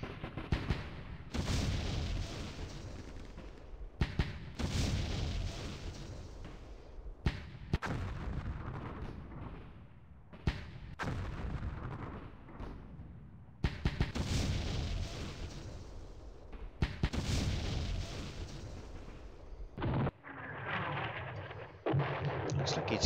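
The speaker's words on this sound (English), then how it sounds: "Light mortars." Light mortar fire in the John Tiller Campaign Series wargame (Rising Sun, Operation Shoestring) booms repeatedly, a series of loud, separate blasts with decaying rumbles spaced a few seconds apart.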